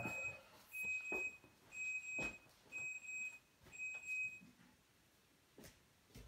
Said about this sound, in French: c'est l'alarme du four